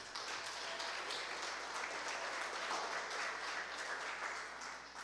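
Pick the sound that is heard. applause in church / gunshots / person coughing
applause in church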